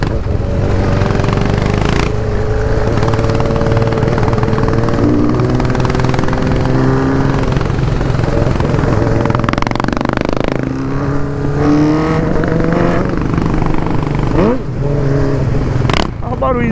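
Yamaha XT660 single-cylinder motorcycle, engine swapped into a Strada, being ridden on a road, droning loud and steady with rising and falling revs and shifting pitch, plus strong wind rush throughout.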